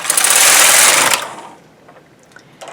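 A knitting machine carriage sweeps across the needle bed knitting a zigzag row at the tightest tension, a loud continuous mechanical whirring and clattering for about a second, then fading to faint clicks.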